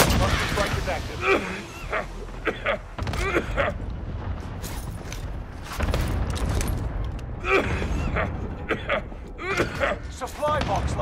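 Bursts of gunfire and booming explosions from a Warzone target strike arrive in clusters against a rumbling background, mixed with spoken game announcements.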